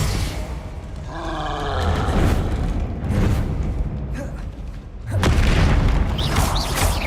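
Bombarda explosion spells in Hogwarts Legacy during a fight with an armored troll, heavy booming blasts rolling into roaring rumbles, one swell early and a louder burst near the end, loud and continuous.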